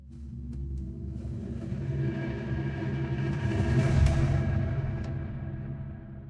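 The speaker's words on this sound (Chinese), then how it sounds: "有那个石门摸着地摩擦的那个声音" An AI-generated sound of an ancient stone door opening, a heavy grinding scrape against the ground with low rumbling tones that swell toward the middle and a few faint knocks, sustained and alone.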